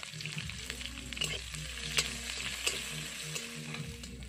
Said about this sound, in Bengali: পেঁয়াজ আর কাঁচা লঙ্কা একটু লাল লাল করে ভাজা করে নিয়ে